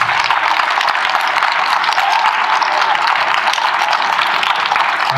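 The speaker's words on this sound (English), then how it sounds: "Give them a huge round of applause." A chapel crowd at a school assembly claps steadily in sustained, even applause, dense and loud throughout with no voices standing out.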